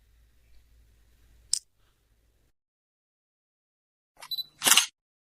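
Shutter of a Nikon D3100 camera taking a photo: a single sharp click in near silence, then a louder double clack of the mirror and shutter a few seconds later, with no talking.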